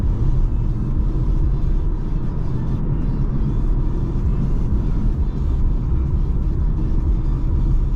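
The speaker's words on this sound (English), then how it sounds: "now we will drive to the real Autobahn" BMW car cruising on a German Autobahn, heard from inside as a steady, loud low road and engine rumble with no break throughout.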